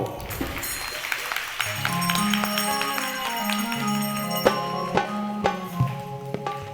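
Audience clapping at a devotional Nat leela performance, with sharp, spaced claps rising out of steady singing and music, loudest in the second half.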